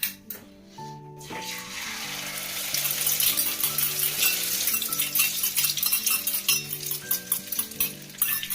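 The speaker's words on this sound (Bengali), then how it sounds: "আর এই যে ও এবার ডিমটা ছেড়ে দেবে।" An egg slides into hot oil and starts frying, a rising steady sizzle with crackling spatters close by, under a light music track after a soft earlier rustle.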